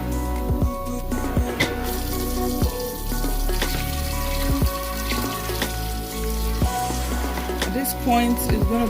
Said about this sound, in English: So I'm gonna add more water to it.